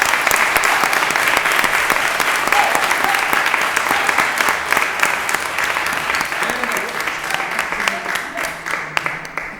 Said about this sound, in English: Round of applause to our ROTC.